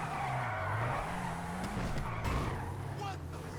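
A fast car in GTA 5 roars along with engine drone and screeching tire skids, the revving pitch rising and falling against a dense, steady mix of game sound.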